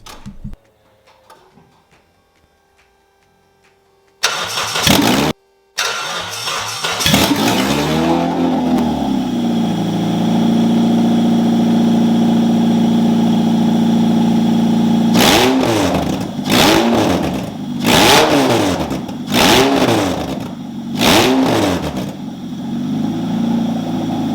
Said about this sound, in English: start the engine just to remind you how terrible the exhaust sounds when you don't have any exhaust installed